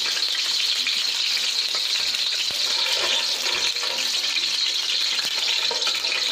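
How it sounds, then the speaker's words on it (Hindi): A few cardamom pods fry in hot fat in a pan for halwa, giving a steady, loud, crackling sizzle with small pops that runs without a break and with no talk. "इसमें डालेंगे इलायची 2-4 दाने"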